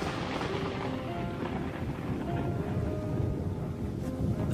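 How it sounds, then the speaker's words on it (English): Steady rain pours down during a thunderstorm on the savanna in lion country, with low rumbling thunder rolling beneath a constant wash of rainfall. "Rainstorm brings healing and relief to the land and the lions."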